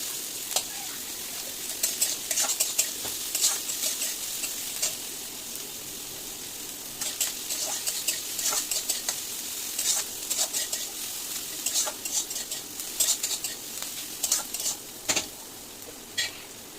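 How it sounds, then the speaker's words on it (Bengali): Onions and green chillies fry in hot oil with a constant sizzle, punctuated by frequent scraping and clinking of a spatula against the pan in irregular bursts. "এবার পেঁয়াজ আর কাঁচা লঙ্কাগুলো একটু ভালো করে তেলে ভেজে নেব।"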